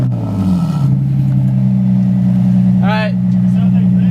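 A Lexus IS300 fitted with a DNA exhaust idles with a steady, loud drone, after a brief rev near the start, while people talk.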